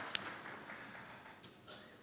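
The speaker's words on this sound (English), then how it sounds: "a round of applause for something like that is absolutely well deserved" An audience at a summit panel discussion on social enterprise gives a faint, distant round of applause, soft continuous clapping with one sharper clap near the start.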